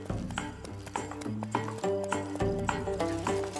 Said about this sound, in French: On va faire une grande balade à cheval.